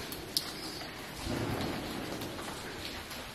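Heavy rain pours down inside an abandoned paper mill, a steady dense hiss with a brief sharp knock early on and a swelling rumble midway, no talk.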